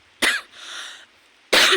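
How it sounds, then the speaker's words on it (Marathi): Two sharp bursts of coughing from furnace smoke and ash, close and loud, separated by a short quiet stretch with a faint hiss. "भटी पेटवले ना, त्याने खोकला लागलेत."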